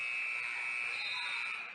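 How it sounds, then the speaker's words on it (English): A loud, sustained electronic buzzer sounds at the end of a women's college basketball game in an arena, one continuous harsh tone lasting nearly two seconds without pause. "Let the buzzer sound."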